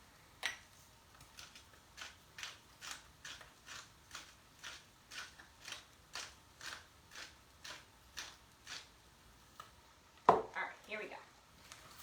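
A hand salt grinder turns close by, producing about sixteen evenly spaced ratcheting crunches in a steady rhythm, followed by a louder clattering knock near the end.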